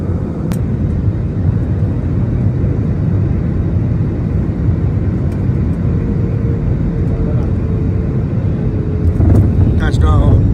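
An airliner touches down at Delhi airport and taxis, a loud, steady low rumble from inside the cabin that holds throughout, with a few clicks and rattles near the end.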